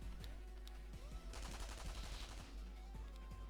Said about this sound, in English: And he just starts shooting these machine guns.